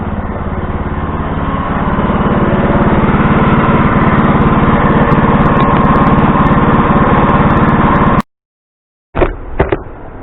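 A tractor engine runs steadily and loudly close by for about eight seconds with a constant buzzing drone, then cuts off abruptly, followed by a couple of brief knocks.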